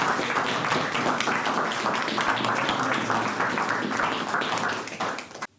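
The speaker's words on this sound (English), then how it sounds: "I would like everybody present" Round of applause from the crowd at a village memorial ceremony: sustained, dense clapping from many hands, loud and even throughout before cutting off abruptly at the end.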